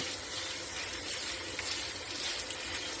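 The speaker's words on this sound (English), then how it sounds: "So once that water is running nice and clear, those will be ready to go." Tap water running steadily over lentils being rinsed in a kitchen, a continuous even hiss and splash, close and moderately quiet.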